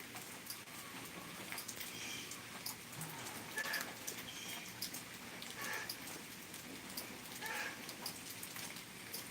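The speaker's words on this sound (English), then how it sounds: "Beautiful rain. That's at least sprinkling." Light rain sprinkling outdoors after a spell of heavy downpour, a steady soft patter of drops that stays faint and even throughout, with no voices.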